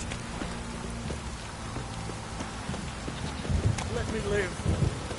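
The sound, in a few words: rain falling in the video game The Witcher 3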